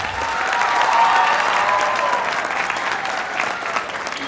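A full hall of students at a college seminar in Bardoli applauds Sanjay Raval, a dense, steady wash of clapping that holds at an even, loud level throughout.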